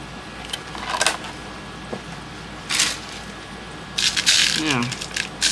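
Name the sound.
glass seed beads rattling in a container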